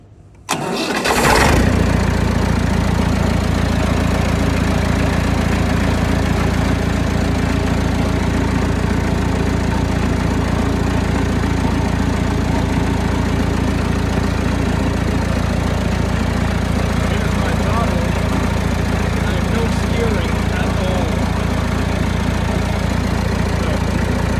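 A 1998 Landini 85F tractor engine cranks briefly, catches and settles into a loud, steady idle close by, running evenly with a constant low rumble for over twenty seconds and no talk over it.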